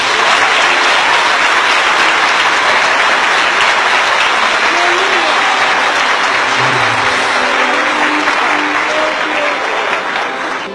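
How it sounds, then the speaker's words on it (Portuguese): A church congregation at an Assembleia de Deus applauds Brother Nenê, loud dense clapping sustained for about ten seconds with no voices over it, tapering slightly at the end. "Vamos aplaudir ele, irmão."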